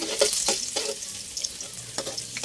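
Garlic sautéing in a pan sizzles softly and fairly faintly, with a few stirring scrapes and clinks in the first second and later on.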